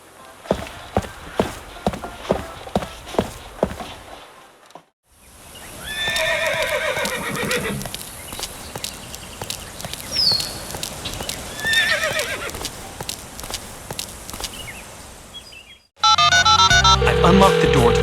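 Horse neighs and whinnies with clip-clopping hooves in the horse-riding game Saddle Up: Time To Ride, starting with a steady run of hoofbeats, then several whinnies over a continuous ambient bed, ending in a sudden loud burst.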